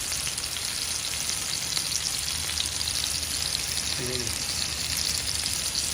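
Wild Atlantic salmon shallow frying skin-side in a pan, a dense, even crackling sizzle held steady throughout, close and fairly loud with no voices.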